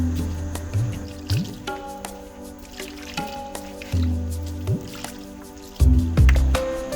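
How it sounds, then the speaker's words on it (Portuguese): Garlic cloves are crushed into paste with a stone in a Sri Lankan kitchen, giving repeated wet squishing thumps and grinding strokes at an uneven pace, close and fairly loud. "Faz-se pasta de alho, esmagando os alhos com uma pedra."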